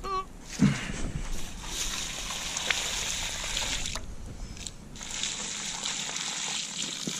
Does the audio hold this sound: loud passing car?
no